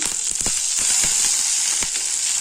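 Curry leaves, onion, ginger and garlic sauté in a hot pan for a chutney, giving a steady close sizzle and hiss with scattered crackles and pops throughout, no talking.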